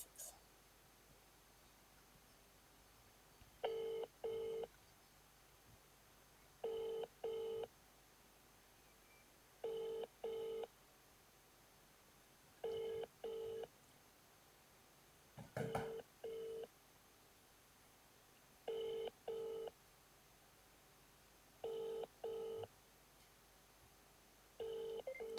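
A phone call rings out unanswered, a repeating pattern of paired ringback tones, roughly every three seconds, heard faint through a handset over low room noise, with a brief dialing click near the start.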